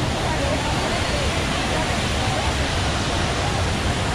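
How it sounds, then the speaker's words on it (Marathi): Rautwadi waterfall during the monsoon, a dense, constant roar of rushing water filling the scene at steady loudness, with a faint murmur of crowd voices blended in. "तर हा आहे राऊतवाडी धबधबा."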